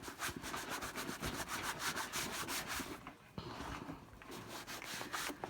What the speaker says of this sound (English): I'm going to use it to wipe off just the other spots that don't seem so built in